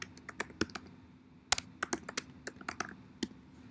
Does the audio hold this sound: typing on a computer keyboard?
yes